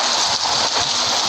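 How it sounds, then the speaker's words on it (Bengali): Light rain falls in a steady, close hiss with no other sounds. "আরে বৃষ্টি তো দেখি অনেকটাই কমে গেছে"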